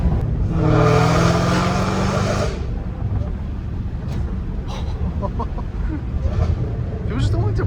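Dodge Hellcat Redeye exhaust from inside the car: a loud engine roar in the first two and a half seconds, then a lower, rumbling cruise, with voices talking over it.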